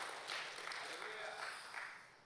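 A congregation applauds during a Sunday church service, a broad, continuous wash of many hands clapping, moderately loud and steady, fading slightly at the end.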